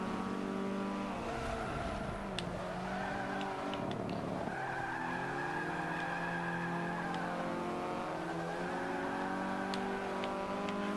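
A race car in Forza 5 on Xbox One brakes hard with tires squealing through a turn, then the engine revs and accelerates again, a steady in-game engine drone with screeching tire skids throughout.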